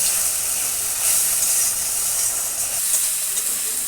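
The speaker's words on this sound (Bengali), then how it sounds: "এটাকে ভালো করে কষাতে হবে।" Spices sauté in oil with a little added water, giving a loud, dense, continuous sizzle and hiss close by, with no voices.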